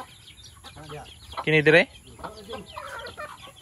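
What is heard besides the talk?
chicken clucking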